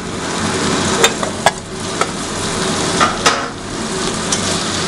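Spices for a Bengali home-style soyabean curry are stirred and sautéed in a pan: constant loud sizzling broken by several sharp clinks of a spoon or spatula against the metal.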